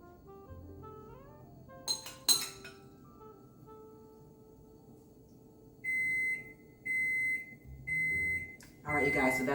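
A kitchen oven set to 400 degrees gives four loud, steady electronic beeps in a regular row near the end, after clinks of baking dish and stuffed zucchini shells, with soft talk in the background.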